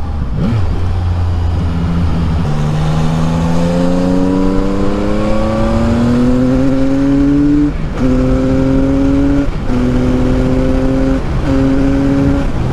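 A CF Moto 675 NK motorcycle engine revs up hard and loud, its pitch climbing steadily through the gears, then settles into a series of short repeated throttle blips near the end.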